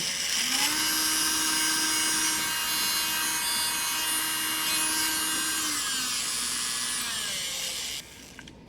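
A small electric nail file drill whines steadily at a high pitch with slight vibration, its tone wavering slightly as it runs, then cuts off abruptly near the end.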